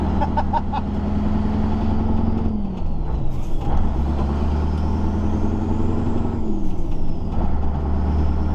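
A Scania 143 truck with a 12-speed gearbox drives along with a loud, close engine drone inside the cab, revs climbing and dropping through gear changes with a short air hiss between shifts.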